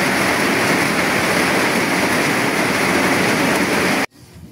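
Heavy rain falls on a walk home, a loud, dense, even hiss that stays steady and then cuts off abruptly near the end, leaving quiet.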